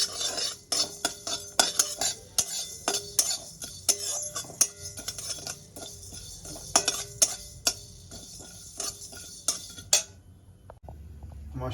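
Whole spices (fennel, black cumin, panch phoron and two cardamoms) dry-roasted in an ungreased pan, with repeated sharp spoon clinks and scrapes in an irregular rhythm, close and fairly loud, then stopping near the end.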